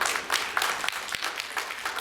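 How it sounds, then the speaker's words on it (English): A brief burst of audience clapping at a retirement farewell party, moderately loud and steady for about two seconds. "A warm round of applause for Jane"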